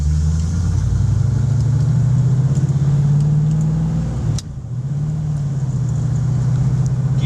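A 1969 Camaro with a six-speed manual drives along, its engine a loud steady rumble close up, easing briefly around a gear change before pulling on again.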